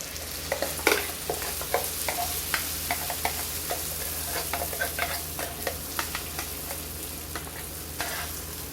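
Thick ground urad dal batter sizzles and crackles in hot oil with asafoetida, with irregular scraping stirs and spatters popping up close over a steady frying hiss.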